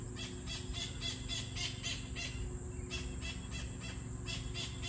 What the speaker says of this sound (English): This is the most king parrots I have ever had in one go, all in the guava tree.